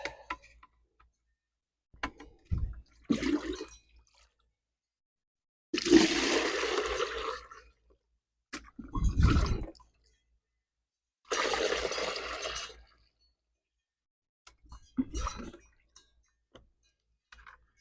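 Dirty water is emptied and poured out in several separate bursts, each a splashing gush lasting a second or so with quiet gaps between, close by and fairly loud.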